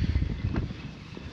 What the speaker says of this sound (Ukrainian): Піднявся в нас вже трохи вітер.